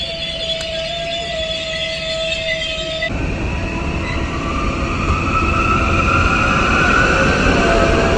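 A train at a station platform in Sarajevo: a steady, loud rumble of rolling wagons with a whining wheel squeal, building heavier as it goes on, no voices.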